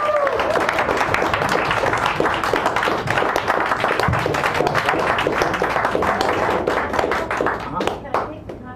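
A cafe audience at a poetry reading applauds a poet, steady close clapping from a small crowd throughout, with voices mixed in and the clapping thinning at the end.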